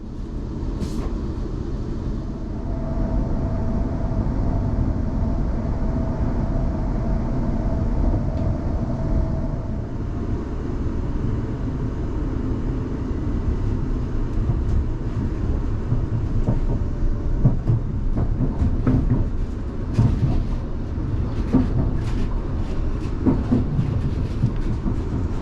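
An SWR Class 450 electric passenger train rumbling along the rails at speed near Eastleigh, with a low steady roar and faint rhythmic clatter, growing rougher toward the end.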